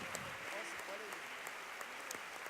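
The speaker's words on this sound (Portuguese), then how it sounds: "Pode aplaudir." A church congregation applauds during a Portuguese sermon on being Christian, a steady wash of many hands clapping at moderate distance, with faint voices mixed in.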